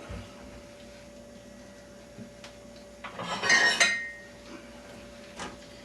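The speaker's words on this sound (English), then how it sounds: "I'm going to grab another plate." Plates and dishes are handled in a kitchen, with a brief clatter and clink of crockery over a steady background hum, plus a few scattered knocks.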